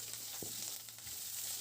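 Curry leaves and chopped onion fry in hot oil for a spicy goat head gravy, a soft, steady sizzle with a brief stir or clink close by and no talking.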